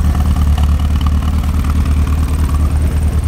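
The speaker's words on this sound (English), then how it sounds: "We got this running pretty good, idling pretty good." A Honda H22 engine idles in an EG chassis car, a loud, close, steady low throb with an even rhythmic pulse and light mechanical clatter, no voices.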